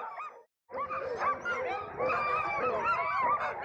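A pack of husky sled dogs barks, yips and whines excitedly all together before setting off, a dense continuous chorus after a brief pause, fairly close.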